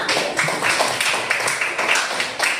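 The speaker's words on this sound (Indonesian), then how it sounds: "Baik, tepuk tangan untuk kita semua" Group of schoolchildren clapping together in a classroom after a winning team is announced, a dense steady patter of hands close by and fairly loud throughout.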